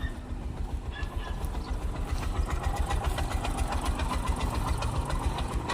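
Just after a roadside repair, a Bajaj motor tricycle's engine runs at idle with a rapid, even knocking putter, steady and fairly close, with no talk over it.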